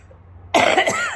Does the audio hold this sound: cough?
yes